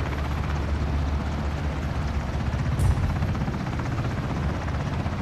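A helicopter in a video game drones with a continuous loud rotor chop and engine whine, steady and close throughout with no talk.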